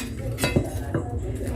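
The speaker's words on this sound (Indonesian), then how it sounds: "Kemudian kita potong daun bawangnya," A knife chops spring onions on a cutting board, giving a few sharp taps amid a steady background of kitchen noise with faint clinks.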